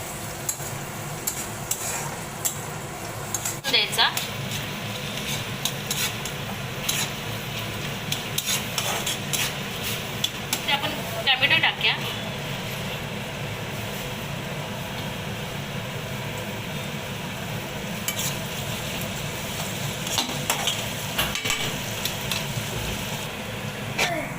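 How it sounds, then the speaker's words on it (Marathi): Onion sautéing in a pan for a capsicum and potato dish, a constant close frying hiss punctuated by repeated spoon scrapes and stirring clicks, with no voices. "कांदा चांगला परतून घेऊया आपण"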